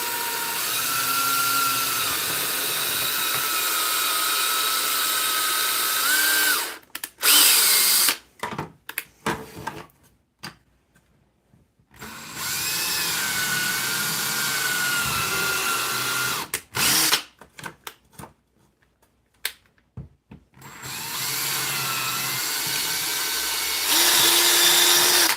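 A power drill drills a pilot hole, running loudly in several long bursts, separated by pauses and brief clicks as it stops and restarts.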